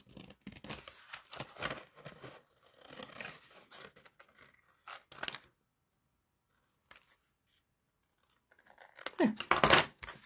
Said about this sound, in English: what I'm going to do is I will cut this out